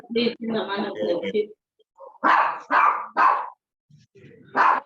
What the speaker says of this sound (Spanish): Caramba, se enojó el perro, se enojó el perro.